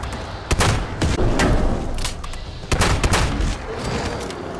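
An anti-armor shotgun fires in a video game, giving a few heavy blasts with booming tails over constant loud game noise.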